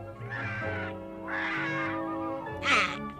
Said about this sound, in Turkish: bakın yukarıda kocaman bir kuş var